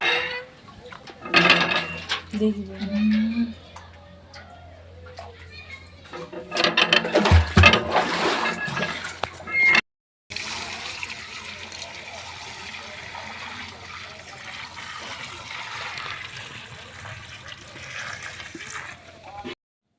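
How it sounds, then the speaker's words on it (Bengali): Water being drawn from a village well by a woman, with irregular splashing and clanking bursts early on, then a steadier wash of watery noise, while people talk nearby. "এখানে বৌদি জল তুলছে দেখো"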